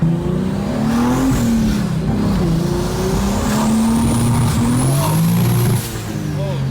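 A wrecked 2023 BMW M3 engine revs up and down on its own in first gear, a loud close rumble with rising and falling pitch and a faint voice underneath.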